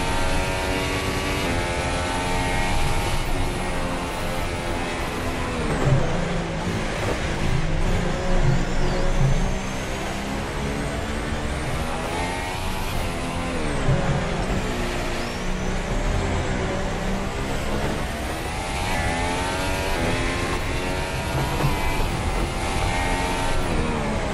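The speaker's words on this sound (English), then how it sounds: "Wheel spin there, shifting into fourth gear." A 2015 Williams FW37 Formula 1 car in a Green Hell game mod, its engine screaming at high revs with rising pitch sweeps and abrupt drops at each gear shift, loud and continuous for the whole stretch.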